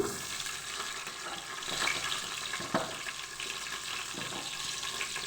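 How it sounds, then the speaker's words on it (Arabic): Onion frying in a pan, a dense continuous hiss and crackle close by, with a few faint clicks and stirring sounds, no talking. "ندير البصله تاعي الاولى تقلى، البصله تقلى"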